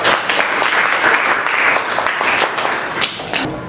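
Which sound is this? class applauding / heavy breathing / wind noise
class applauding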